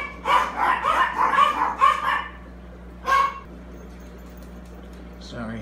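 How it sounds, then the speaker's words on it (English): A dog barks in quick repeated bursts over about two seconds, then gives one more short bark after a pause, close and fairly loud against a faint steady hum. "That was a long bark session."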